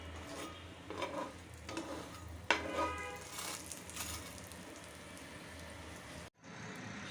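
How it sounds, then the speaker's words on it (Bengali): Aloo paratha frying in oil in a pan, a steady soft sizzle with occasional stirring scrapes and a sharper hiss partway through, close and continuous with no talking. "আলু পরোটাটা ভাজতেছি তেলের উপরে"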